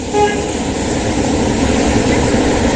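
A motorcycle passing close by on a street, a loud, steady engine roar that swells briefly and then holds, filling the clip with broad road noise and no speech.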